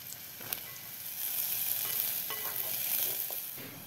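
Garlic and mushrooms frying in olive oil in a pot give a steady, close broadband sizzle with scattered crackles and pops, no voices.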